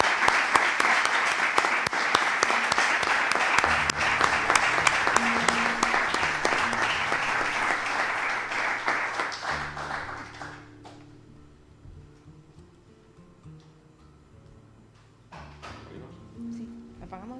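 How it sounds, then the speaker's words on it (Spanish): Audience at a book presentation on the Tetuán school of painting gives a full, dense round of applause for about ten seconds, then it fades to scattered claps, shuffling and murmured talk. "Y creo que se merece un aplauso."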